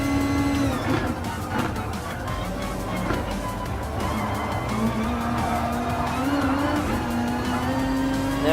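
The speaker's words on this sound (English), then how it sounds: "Now let's just go and overtake the prototype race car." Race cars in the video game Gran Turismo Sport scream along the track at high revs, with engine pitch rising and dropping through gear shifts and occasional tire squeal, while a voice talks quietly underneath.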